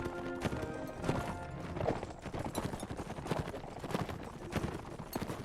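Horses gallop in the Mount and Blade: Warband battle game, with rapid, continuous hoofbeats clattering at close range. A few neighs and whinnies break through the steady drumming.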